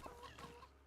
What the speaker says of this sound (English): Nice little flock of geese and chickens.